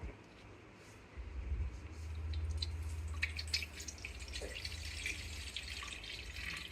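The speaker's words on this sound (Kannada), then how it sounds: "ಇದು ಇಮ್ಲಿ ವಾಟರ್ ರೆಡಿ ಮಾಡಿ ಇಟ್ಟಿದ್ದಲ್ಲ, ಇದನ್ನೀಗ ಸ್ಟ್ರೈನ್ ಮಾಡಿ ಹಾಕುವ" Tamarind water for pani puri is strained, heard as a soft pouring and dripping of liquid that starts after a quiet moment, with a low rumble beneath and scattered small splashes and drips near the end.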